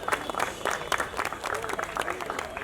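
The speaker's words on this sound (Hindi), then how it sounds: "आप लोग तालियां मत रुकने मत दीजिए बस" Audience applause at a seminar, a brief burst of scattered clapping with some voices mixed in underneath.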